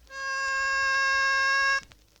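A single sustained harmonica note played with tongue blocking, held steady and clear for well over a second, then cut off cleanly, with no other sound around it.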